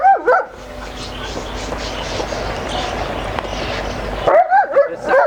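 A dog yelps and whines up close in short, high, wavering cries at the start and again near the end, with a long noisy rustling stretch between them.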